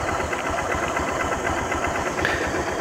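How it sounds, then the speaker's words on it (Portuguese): A motorcycle engine runs steadily at a close, loud idle with a rapid even chugging pulse and a slight knock, with no voices over it. "Para ligar a minha moto é meio complicado."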